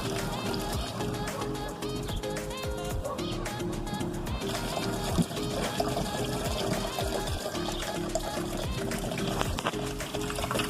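Dirty liquid drains and pours steadily out of a car battery being emptied after cleaning with baking soda, a continuous close splashing trickle throughout, with a voice talking over it.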